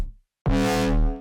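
Bass whomp sample run through an amp effect in heavy mode, a short silence then one thick, gritty, distorted low hit that swells and sustains for under a second, close and loud.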